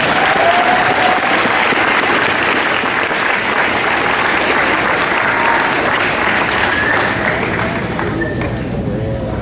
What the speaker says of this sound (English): Please congratulate these students with your applause.